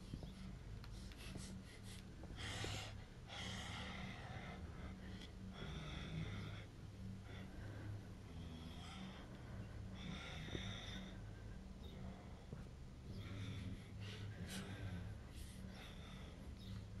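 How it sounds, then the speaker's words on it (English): A ghost girl in the horror game Home Sweet Home breathes heavily, with loud rasping, snorting inhales and exhales recurring irregularly over a low ambient hum. "I can hear her. She breathing so loud."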